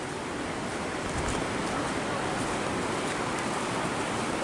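Flash-flood river water in rural Jampang Kulon, Sukabumi, rushing in a loud, steady broadband roar that fills the whole stretch without breaks, close and constant.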